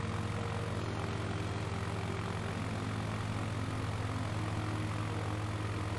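Propeller airplane engine in Microsoft Flight Simulator 2020 at about half power, a constant loud droning hum with a steady low buzz, unchanging throughout and with no talk.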